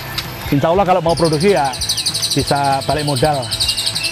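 A caged canary in a songbird breeder's collection sings bright, rapid high twitters that run on through the clip beneath a man's conversational speech.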